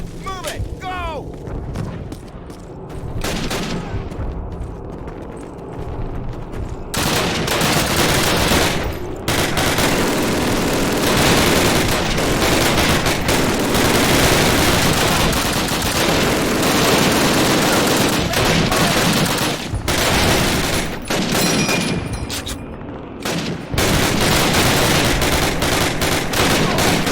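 Heavy gunfire from a Call of Duty PC American campaign battle: dense, sustained bursts of rifle and machine-gun fire with booming blasts, loud and continuous, while soldiers shout orders over the din.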